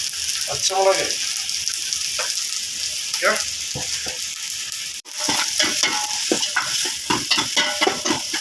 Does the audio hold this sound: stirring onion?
yes